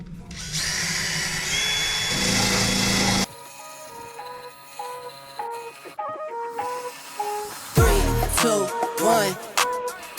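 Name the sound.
wire wheel on drill removing rust from van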